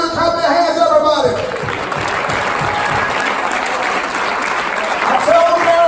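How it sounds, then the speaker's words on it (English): Church congregation clapping hands together, a dense steady burst of applause from a crowd, with a voice speaking over it at the start and end. "Clap your hands, everybody."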